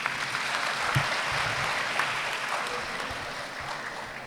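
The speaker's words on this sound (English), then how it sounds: "So we have to clap for our women folk." Steady applause from an audience at a graduation ceremony, a dense, even patter of many hands clapping throughout, moderately distant and sustained without talk.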